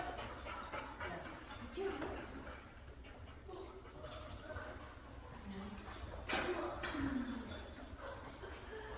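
A dog whimpers and yips in short, faint bursts near a gate outdoors, with people talking over it and steady background noise throughout.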